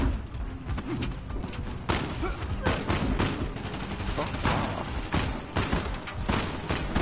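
Dense video-game gunfire in Uncharted: The Lost Legacy, rapid overlapping shots and bursts with heavy thuds, loud and continuous throughout a chaotic firefight.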